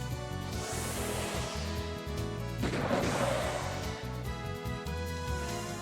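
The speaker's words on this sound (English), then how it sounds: "that Gatling does some fucking damage" Gatling gun fire in the video game Wild Arms 3, a dense, continuous loud barrage of crashing, thudding blasts with layered game music, building to a heavier burst midway.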